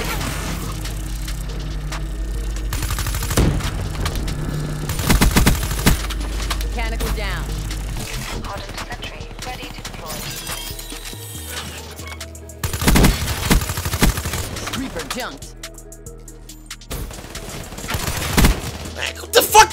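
Sentry gun firing in Black Ops 3 multiplayer, rapid bursts of automatic gunfire mixed with other game sounds and effects, loud and dense, with sharper bursts near the end.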